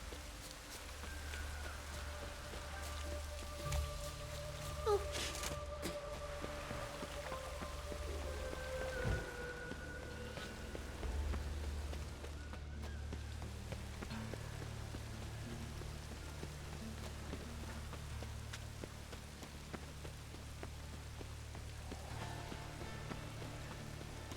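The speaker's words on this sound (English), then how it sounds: "Rain again." Steady rain falls in The Witcher 3 game world, a continuous soft hiss with low rumbling underneath and a few faint tonal game sounds, no voices.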